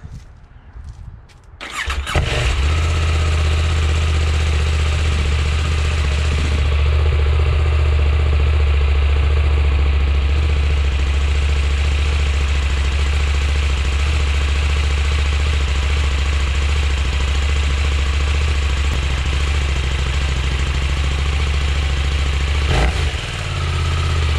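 A 2019 KTM 790 motorcycle with its stock exhaust cold-starts with a short crank, then catches and settles into a loud, steady idle close by. The deep, even rumble holds for the rest of the run with no talking.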